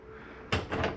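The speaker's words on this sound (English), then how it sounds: "I'm going to open up this bathroom door so I can look in there and watch this." An RV bathroom door on a 2022 Highland Ridge 264RLS travel trailer opens with a sudden knock followed by a short rattling scrape, close and moderately loud, with no talk.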